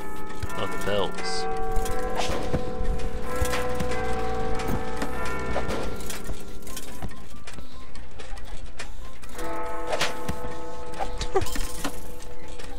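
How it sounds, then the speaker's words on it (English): Bells ringing the time in the steampunk stealth game The Swindle, several metallic tolls with long ringing tails over mechanical clicking and ticking, with a voice talking. "The bell tells what time it is?"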